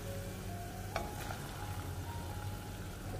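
Ground onion and garlic sauté in a pan, a soft continuous sizzle with a few quick stirring scrapes and clinks near the start.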